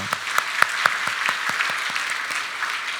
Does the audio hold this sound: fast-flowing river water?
no